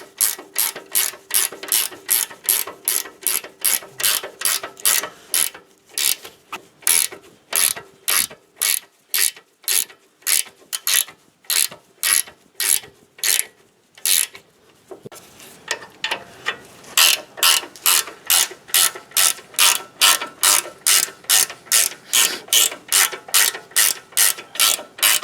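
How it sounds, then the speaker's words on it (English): A short ratchet clicks rapidly while tightening an 18 mm bolt on the rear brake of a 2006 Chevy Suburban, close and loud, in steady bursts of sharp clicks with brief pauses between strokes. "The 18 mil, I'm going to use my little ratchet here."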